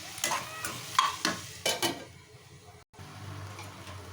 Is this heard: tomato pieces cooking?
yes